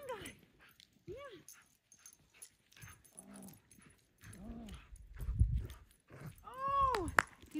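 Dog vocalising during tug play training, with short whines and throaty sounds scattered through the clip and a louder burst near the end, heard under excited human voices.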